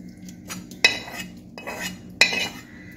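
Metal utensils clink against a pot as prawns go in for a prawn biryani: two sharp, close clinks with quieter scraping and handling between them, and no voices.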